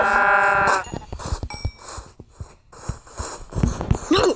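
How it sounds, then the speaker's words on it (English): Blocky sheep in Minecraft give a loud bleat at the start, followed by scattered thuds and footstep-like clops from the game and a few more short animal sounds near the end. "My sheep."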